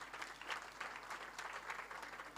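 An audience claps for the costume makers at a church's 2023 year-end show, a steady patter of applause from a modest crowd, somewhat distant and fairly quiet.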